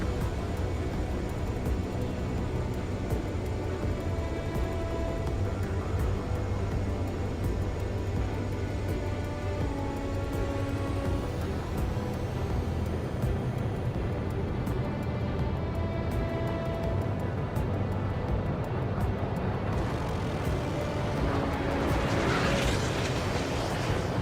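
A jet aircraft taxiing in the combat flight game Ace Combat 7 gives off a steady, loud engine drone with a shifting whine, continuous and unbroken throughout, and no talk.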